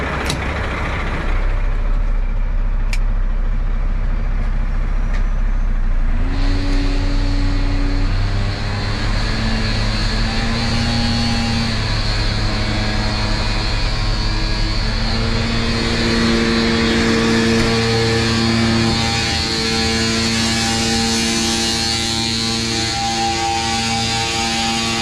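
Truck engine idling at a steady, loud level, with a power take-off blower kicked in partway through that adds a sustained droning whine and hum over the rumble; the sound runs continuously from start to finish.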